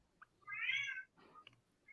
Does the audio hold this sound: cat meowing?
yes